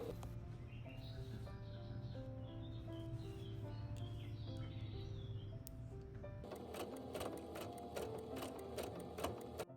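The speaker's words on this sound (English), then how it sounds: "I'm trying to sew some pages and some laces" A sewing machine stitches pages and lace for a vintage shabby chic needle book, running in a steady close whir that shifts to a faster, harsher rattling hum partway through, with no talking.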